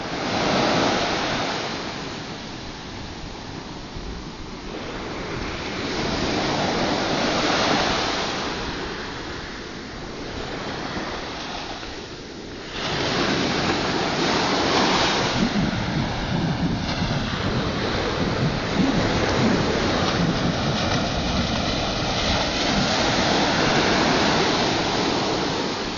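Sea waves wash and break continuously on the sand at El Saler beach in Valencia, a broad, steady surf roar with swelling surges and some wind buffeting, with no voices present.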